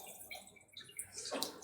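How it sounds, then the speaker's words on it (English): Hot lard poured through cheesecloth into a stainless steel colander, heard as a faint, soft liquid trickle that swells into a brief pour near the end. "I'm just going to pour it through the cheesecloth."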